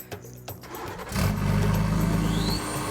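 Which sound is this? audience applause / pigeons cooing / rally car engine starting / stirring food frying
rally car engine starting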